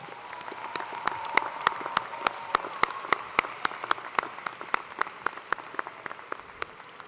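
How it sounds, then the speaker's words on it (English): Graduates at a spring university commencement ceremony applaud family and friends, with a broad crowd wash of clapping under a few sharp, rhythmic individual claps standing out close by. "Graduates, please join me again in giving a hearty round of applause to thank these family members"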